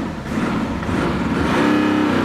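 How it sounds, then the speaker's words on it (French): A BMW X3 with a 3-litre diesel engine accelerating hard, a loud, close, rising engine roar that builds steadily and holds strong to the end. "le 3 litres D, le beau bruit, les gars"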